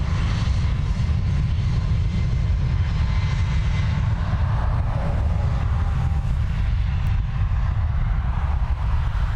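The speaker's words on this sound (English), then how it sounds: "A321 off to Toronto." Airbus A321 jet taking off at Dublin Airport, a steady, loud, broadband engine roar with heavy low rumble and some wind buffeting, continuous throughout with no voices.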